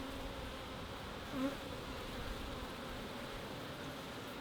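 Honey bees buzz steadily at an open beehive while frames of capped honey and brood are inspected, a close, continuous drone with no talking.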